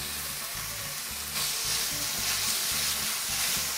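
Diced sun-dried tomatoes and chopped porcini mushrooms stirred in a hot pan for a creamy chicken pasta, a loud continuous sizzle with rhythmic scraping strokes that grows stronger partway through.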